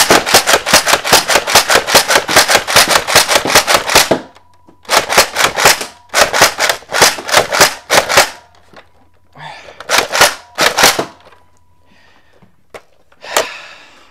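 Zuru Longshot toy dart blaster slam firing in rapid bursts, a fast string of sharp snapping shots followed by shorter volleys and a few scattered single pops, loud and close.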